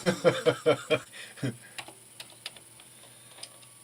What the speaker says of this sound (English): I'm starting to remember how to use this keyboard.